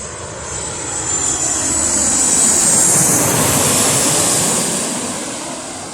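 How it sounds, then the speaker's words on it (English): A Ryanair Boeing 737 jet airliner roars past at an airport, a loud broad rushing engine noise that swells and holds steadily before easing slightly, with a high whine riding on top. "another one of those damn 737s from Boeing"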